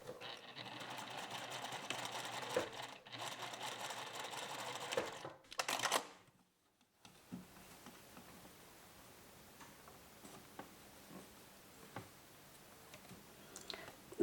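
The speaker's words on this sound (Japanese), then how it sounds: "ポケットの三つ折りの上端を反転して端を1センチで縫います。" A sewing machine stitches a folded-over pocket hem 1 cm from the edge for a high-neck vest, running in a fast, even mechanical whir for several seconds before stopping, followed by quiet handling clicks.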